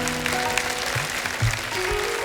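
Audience clapping at a motivational night event as guests are welcomed on stage, a steady wash of applause from a crowd with faint tonal sound underneath.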